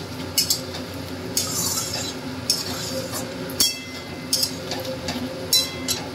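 Poppy seed paste and ridge gourd being stirred and sautéed in a pan, with a spoon scraping and clinking against the metal in irregular bursts over a low steady background, close by with no talk.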